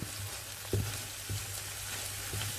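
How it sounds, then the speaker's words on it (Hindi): Chopped vegetables frying gently over a very low flame for egg fried rice, a soft steady sizzle with a few light stirring knocks, close and alone. "ये बहुत स्लो फ्लेम पे मैं बना रही हूँ"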